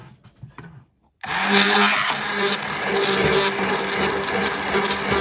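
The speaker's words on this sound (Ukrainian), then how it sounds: "І зараз будемо розминати блендером." A hand blender mixing a strawberry shake switches on abruptly after a brief quiet moment and whirs loudly and steadily, a dense buzzing drone that keeps going without pause.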